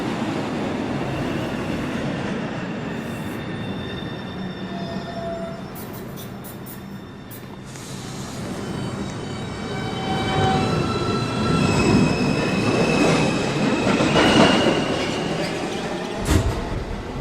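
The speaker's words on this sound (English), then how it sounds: "Uptown. Local 1 train. Approaching the station." An NYC Subway uptown local 1 train pulls into Lincoln Center station, a steady rumble of wheels and rail with high squealing tones and clatter growing louder as it nears, under automated station announcements.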